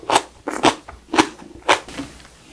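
Crisp white kimchi made with sweet napa cabbage, still unfermented, crunches in about four close, sharp bites with short chewing crackles between them and no talking.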